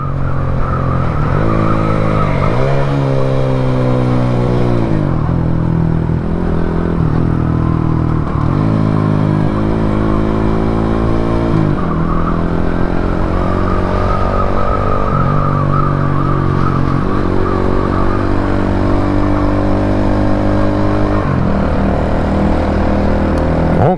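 A Shineray Worker 125 motorcycle with its original exhaust revving close by, loud and continuous, the engine climbing and dropping through repeated throttle blips with no voices over it.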